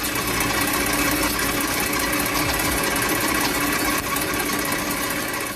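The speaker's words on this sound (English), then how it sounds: "Here you can see how metal is cut on a CNC machine." A CNC machine cutting metal gives a loud, steady mechanical drone with a constant high whine and a busy rattle, running without pause and with no voices.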